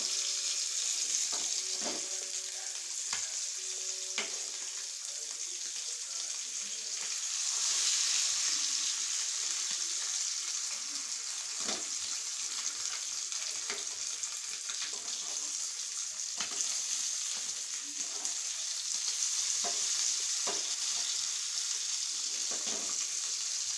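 Fish frying in a nonstick pan, a loud continuous sizzle with occasional clinks and small bursts throughout.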